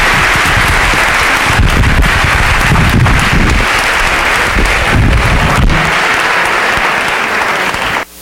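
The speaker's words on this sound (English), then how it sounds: "Please give these three penetrating thinkers a big round of applause." Loud, sustained applause from a conference audience for a panel of speakers, a thick continuous wash of clapping that cuts off abruptly at the end.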